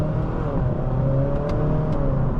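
A 2018 Honda Accord Sport 2.0T with about 111,000 miles accelerating, heard from inside as a steady rising engine hum with road rumble, close and continuous.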